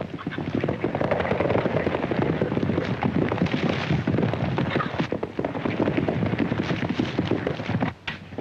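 Horses' hooves clip-clop steadily and close by in a 1940 Western, a dense, busy clatter with no pauses that runs loud through the whole stretch and eases only near the end.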